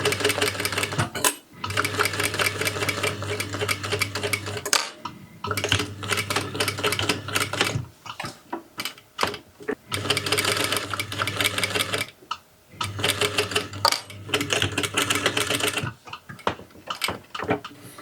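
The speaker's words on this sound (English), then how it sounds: "we're going to sew at 1 centimeter from the edge, and we're going to stop right at this point." A sewing machine stitches a shirt seam one centimeter from the edge in steady whirring bursts, stopping and restarting several times at close range with no talk.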